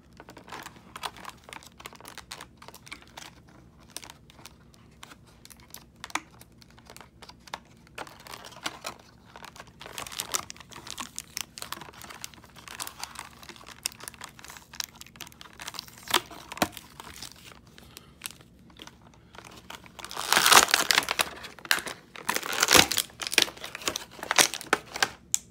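Plastic packaging of a 2004 Mattel Batman figure is crinkled and torn open, with dense crackling, tapping and rustling throughout and a louder burst of tearing near the end, close up.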